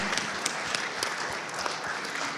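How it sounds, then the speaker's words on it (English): An audience at an elders and youth conference applauds, a dense, steady crackle of many hands clapping that holds evenly throughout, with a few louder claps standing out. "let's give a round of applause"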